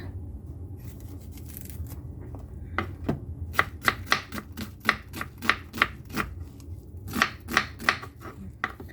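Onion being chopped on a cutting board while preparing a Thai stir-fry of meatballs and mixed vegetables: a run of sharp, evenly spaced knife strikes, sparse at first and then quick and steady, close and clear over a low background hum.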